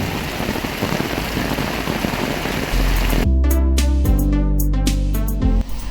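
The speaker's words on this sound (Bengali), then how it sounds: "আমাদের এখানে পরপর 2 দিন খুব জোরে বৃষ্টি হচ্ছে" Heavy rain pours steadily over a garden being cleared from jungle, a loud dense hiss of drops drumming on surfaces with a deep rumbling undertone in the latter half.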